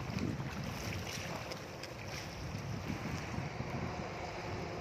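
Steady wind rushing across the microphone at Sua Beach with a low rumble, mixed with a faint wash of sea and waves, continuous throughout without voices.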